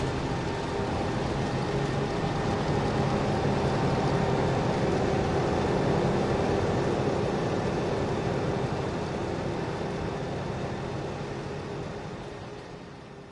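A cotton harvester, a huge vacuum-style farm machine in a farming simulator video game, runs with a steady, loud mechanical drone and hum that holds constant throughout before easing off slightly at the end, with no talking.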